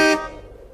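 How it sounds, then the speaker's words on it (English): A single short car horn honk before dawn, sharp and loud at first, then trailing off into quiet. "Guess I'll honk and let them know I'm here."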